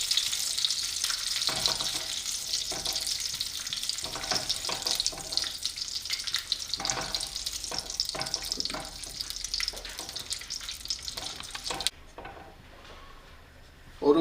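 Sago pearls roasting in ghee in a pan give a steady, bright sizzle with scattered stirring scrapes, fairly close and constant, then stopping abruptly near the end.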